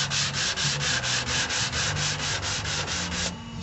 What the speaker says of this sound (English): I'm wrapping my wet dry sandpaper around it and using a spray bottle. Spray down where I want to sand.